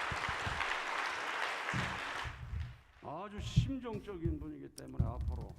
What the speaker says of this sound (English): let us offer a great round of applause to our translator